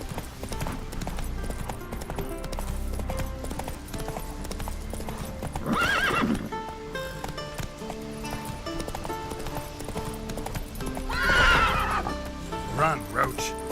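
Roach the horse galloping in The Witcher 3 on Skellige, with steady rapid hoofbeats throughout, loud neighs breaking through near six and eleven seconds, and a voice speaking over the game sound.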